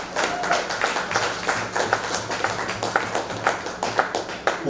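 Scattered clapping from an evening audience acknowledging a mistress of ceremonies at a closing-remarks event, with irregular individual claps and a faint low hum running throughout.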